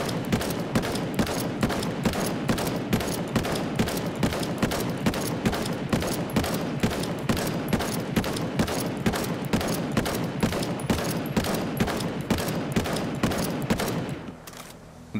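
Rapid, steady automatic shotgun blasts from the ACS-12 in Ghost Recon Breakpoint, loud and continuous for about fourteen seconds before cutting off.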